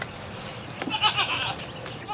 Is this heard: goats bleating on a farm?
yes